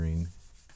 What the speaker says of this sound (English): So yeah, just working on these dark areas, smudging and smearing.